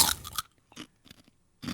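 Crisp crunching and chewing of shrimp-flavored crackers, a loud burst of bites followed by quieter intermittent crunches and another bite near the end, close to the mic with no talking.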